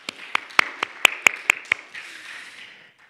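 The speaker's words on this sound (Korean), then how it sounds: "우리 주님께 감사와 영광의 박수 올려드리겠습니다." A small church congregation at a Sunday worship service gives a brief, sparse round of applause: about eight distinct, separate claps in the first two seconds, moderately close, then fading to quiet room noise.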